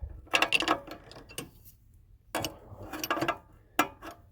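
A 13/16 wrench works a bolt loose on a rare three-wheeler under restoration, giving a few quiet clusters of metallic clicks and ratcheting scrapes separated by short pauses, close by with no talking.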